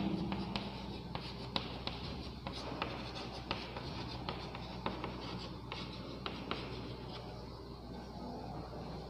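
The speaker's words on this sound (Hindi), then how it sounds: "मैं यहाँ भी लिख देता हूँ।" Handwriting during a Hindi grammar lesson, a pen or marker scratching steadily across a writing surface with small taps and strokes, close and continuous for the whole stretch with no talking over it.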